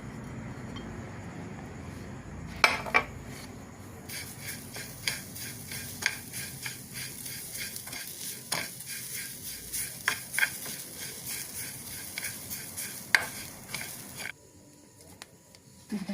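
Grated coconut being stirred in a pan over heat while the shreds dry and change colour, giving soft repeated scraping and clinking strokes at close range with a faint sizzle underneath and no talking.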